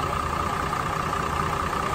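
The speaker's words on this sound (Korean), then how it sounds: "지금 엔진을 키운 상태에서 촬영하고 있습니다." A 5-ton automatic cargo truck's engine idles steadily up close, a continuous low rumble with an even, unchanging drone and no talk.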